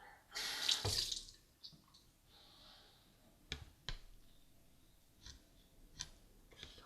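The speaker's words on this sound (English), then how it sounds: "Get a little more water." A short gush of running tap water, then quiet with scattered clicks and small knocks of handling nearby.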